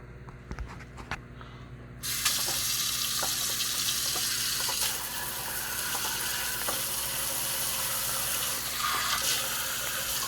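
Cold water runs from a tap while a vinegar-soaked metal relic is rinsed and brushed off. Soft clicks and handling come first, then a strong, steady rushing hiss of running water continues to the end, with no talking.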